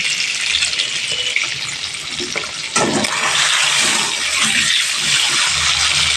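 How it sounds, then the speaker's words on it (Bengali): Six peeled boiled eggs coated in salt and turmeric frying in hot oil, a loud continuous hissing sizzle with a brief sharper burst partway through, heard alone without talk. "ছ পিস ডিম সিদ্ধ করে ছাড়িয়ে নিয়েছি নুন হলুদ মেখে ফ্রাই করে নিচ্ছি"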